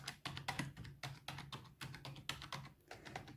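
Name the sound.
pressing the media keys on a computer keyboard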